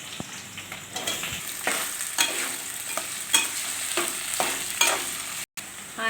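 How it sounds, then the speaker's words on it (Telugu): Dried red chillies are tempered in hot oil for a potato curry, crackling and sizzling close by while a spoon stirs in repeated scraping strokes, with a brief dropout near the end. "ఎండుమిర్చి అన్నీ వేసాను ఫ్రెండ్స్. తాలింపులు వేస్తున్నాను."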